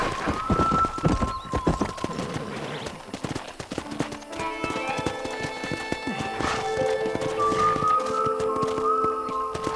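Horse hooves clip-clop in a steady gallop while riding in the Red Dead Redemption video game, with neighs and whinnies over a busy game soundtrack throughout.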